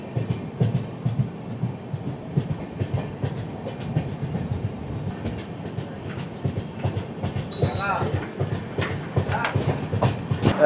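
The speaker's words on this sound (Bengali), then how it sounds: "ট্রেনটাও চলতে শুরু করলো আর খুব ভালোই লাগছে" A passenger train in India rolls along the tracks on a trip from Kolkata toward Himachal, its steady rumble and rhythmic clickety-clack of wheels carrying through the whole stretch, with brief higher squeals near the end.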